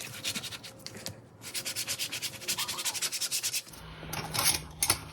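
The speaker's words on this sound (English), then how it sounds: "And now, I'll burnish it down." Paper is burnished down by hand while a journal is made, a close, quick rhythmic rubbing in fast back-and-forth strokes that pauses briefly, resumes, then gives way to a few lighter scrapes.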